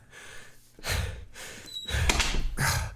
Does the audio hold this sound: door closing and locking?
yes